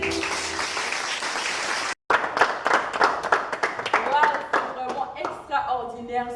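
Worship congregation applauding and cheering for the Lord, a dense burst of clapping that breaks off briefly, then resumes with scattered claps, crowd voices and music tones rising toward the end.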